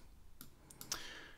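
A few soft mouse clicks while retouching a photo with a healing tool in Capture One, three or four faint, quick clicks close by, heard without talk.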